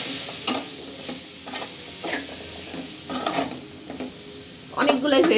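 Onion stalks stir-fry in a pan with already cooked meat, producing a soft ongoing sizzle broken by scraping spatula strokes and occasional clinks against the pan, heard up close.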